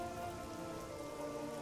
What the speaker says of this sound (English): He hates the rain as well.